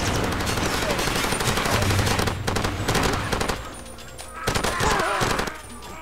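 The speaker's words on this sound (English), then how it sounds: "Short burst from the mounted gun works best" A mounted machine gun in the video game Far Cry 2 fires loud rapid bursts, dense stuttering gunfire that breaks off briefly and then resumes in a shorter burst.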